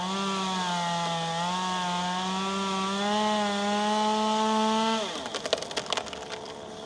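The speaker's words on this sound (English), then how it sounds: "Chainsaw turns off" A chainsaw cuts through a section of a tree during a tree removal job, its engine whining loud and close with a slowly rising pitch, then the motor drops off and is followed by cracking, splintering wood.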